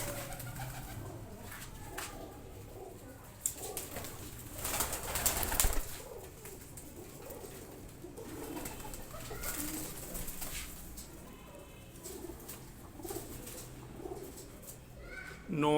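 Pigeons coo repeatedly, close by, in a loft of about thirty flying pigeons, with scattered chirps and a voice talking over the birds throughout.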